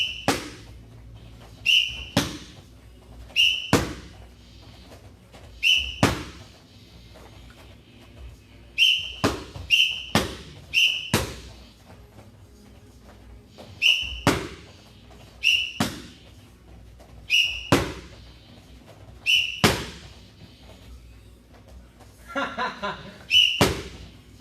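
Sharp whistle blasts ring out repeatedly at an indoor kickboxing class, short bursts in loose pairs and singles spaced a few seconds apart, loud and close, with thuds of training in between.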